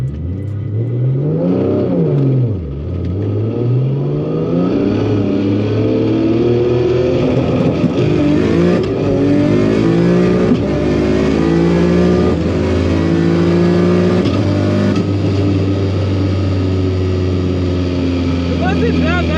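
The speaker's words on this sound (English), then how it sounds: "This will be my first legit roll race" Barra-swapped GT350 in a roll race, its engine roaring loud and close as it accelerates hard through rising revs and gear changes, a long sustained pull with a brief dip early on; a voice is faintly audible.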